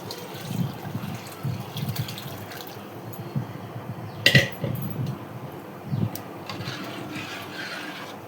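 Tamarind water pours and splashes into a pot in a few short bursts, with a sharp clink midway and soft kitchen noise around it.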